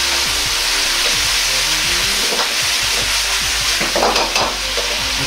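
Pork, bamboo shoots and garlic chives stir-fried over high heat, a loud continuous sizzle with repeated scraping strokes of the spatula against the pan, steady throughout with no talking.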